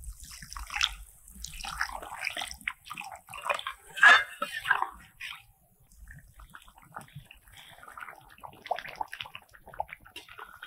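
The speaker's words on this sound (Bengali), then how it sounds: "এবার দিয়ে দিচ্ছি জল।" Water is poured into a pan of spinach gravy being cooked, a close splashing and trickling for several seconds that then thins to quieter sloshing.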